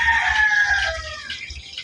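A White Kelso rooster crows loudly and close by, one long strained call that trails off, with a low rumble of background noise underneath.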